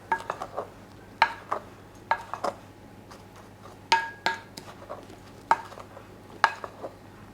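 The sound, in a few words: mixing dry muffin ingredients in a bowl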